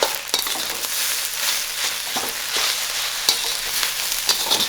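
Spam fried rice with carrots, corn and a pre-cooked egg sizzles steadily in a hot pan, with scraping stir strokes and faint utensil clicks throughout.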